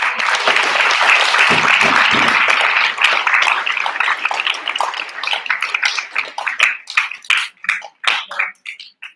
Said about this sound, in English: And another applause.